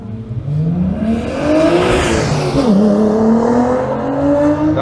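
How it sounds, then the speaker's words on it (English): A turbocharged car engine at the Retro Rides Weekender at Goodwood Motor Circuit revs up loudly and close, with rising and falling engine pitch and a whirring whine over a steady roar. "That's got some big turbocharger action going on."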